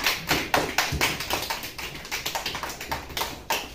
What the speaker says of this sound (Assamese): তালি দিয়া, সকলে তালি দিয়া